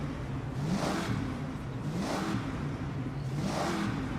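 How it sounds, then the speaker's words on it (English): An Audi R8 V10 Plus engine in Forza Horizon 6 rises and falls in three repeated revs under a steady mid-pitched drone, heard close with no talking. "Let's pick that Audi R8 V10 that someone asked about earlier."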